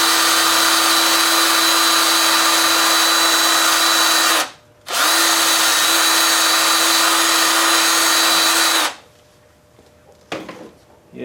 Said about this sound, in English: Let's put a buffing wheel on there